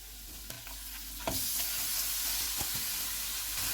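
Minced meat drops into hot oil with chopped garlic and ginger, the sizzle jumping louder partway through, then holding as a steady hiss with a few stirring scrapes.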